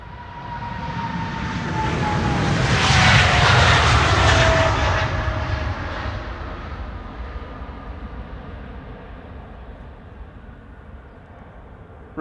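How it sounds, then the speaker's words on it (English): A United Airlines jet, Flight 71 to Newark, at Amsterdam Schiphol roars past, its engine noise swelling to a loud peak with a falling whine, then fading slowly into a distant rumble, no voices. "United Airlines Flight 71 to Newark."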